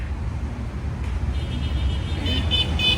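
Rush-hour traffic on Avenida Jose Pardo in Miraflores, Lima: a continuous rumble of cars and buses close by, with a few short horn toots near the end.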